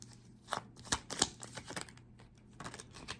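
A tarot deck shuffled up close, quick papery riffles and soft flicks in uneven bursts, fairly quiet with no voices.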